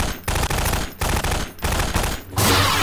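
Bursts of enemy gunfire from a Garry's Mod Star Wars lightsaber game, loud and near, coming as repeated rapid volleys separated by brief gaps, with a heavier sustained burst at the end.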